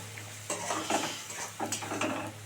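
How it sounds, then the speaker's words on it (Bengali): A spoon scrapes and stirs lote fish curry in a pan, making several close metallic scraping strokes over a faint, steady sizzle. "শুধু নাড়তে হবে যেন তলা না ধরে"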